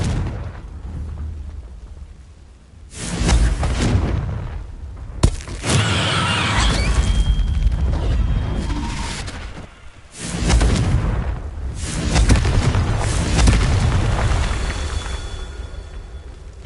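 Repeated Confringo fire-spell blasts in Hogwarts Legacy, heavy booming bursts that swell and fade in waves across the clip, loud and close with dense low rumble, no talking.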